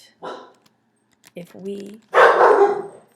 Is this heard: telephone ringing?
no